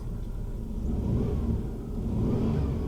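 A 1992 Dodge Dynasty engine, which loses oil pressure as the throttle opens, revs up when the gas is pressed. The close, steady mid-pitched engine drone swells and holds at a higher pitch for about three seconds.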